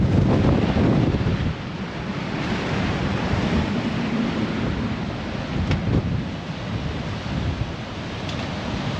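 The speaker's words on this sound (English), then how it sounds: "Now that the wind's got up" Strong wind roars across the open top deck of a North Atlantic ferry at sea, a steady broadband rush with heavy low buffeting against the microphone, continuous and loud throughout with no voices.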